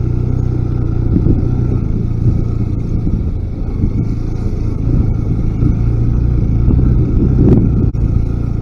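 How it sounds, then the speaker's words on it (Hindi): Motorcycle engine labouring uphill in first gear on a mountain climb, a loud, steady low drone with rough rumble and small throttle variations, close to the listener, with no talk. "फर्स्ट गियर में ही बाइक को चलाना पड़ रहा है।"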